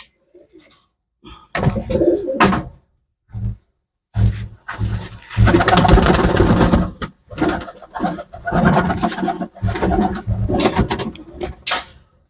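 Pigeons coo in bursts of throaty calls, some overlapping and loud, with short quiet gaps between them, close by.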